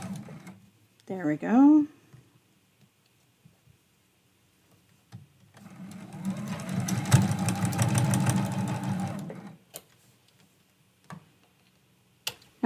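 A sewing machine stitches a Christmas quilt block, running steadily for a few seconds close by, with a short spoken phrase and brief vocal sounds before it starts.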